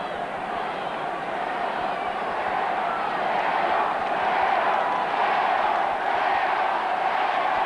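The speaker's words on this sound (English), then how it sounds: "Certainly in the battle of the cheering at the moment, the clapometer would seem to indicate that the Mayo supporters are in the finer voice." Mayo supporters cheer at a 1988 All-Ireland Gaelic football semi-final against Meath, a broad, sustained stadium crowd roar heard at a distance, with commentary running over it.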